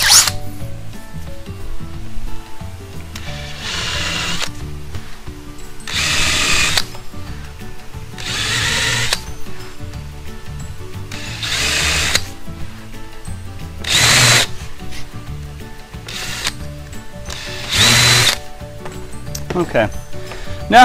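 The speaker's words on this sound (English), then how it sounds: "Now I'll flip it over to the back side, the non-mortise side, and I will just countersink those holes slightly." A power drill countersinks pre-drilled holes on the back, non-mortise side of a Murphy bed header, in about seven short whirring bursts of a few seconds each, spaced by pauses and brief handling noises.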